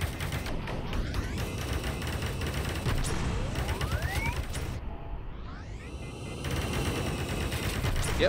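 Rapid gunfire bursts and fusillades from the VR shooter game Bullet Train, loud and continuous across the clip with mechanical clatter and a rising whoosh in the middle, no speech over it.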